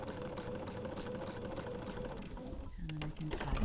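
A sewing machine stitches along a seam guided by washi tape, giving a steady, close mechanical whirr that runs throughout with a brief change near the end; a voice may be faintly present.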